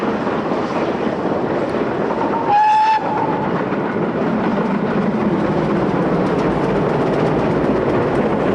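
A Great Western Railway Manor class steam locomotive rumbles steadily past throughout, with a brief whistle sounding near the start amid the continuous rolling noise of the engine and carriages.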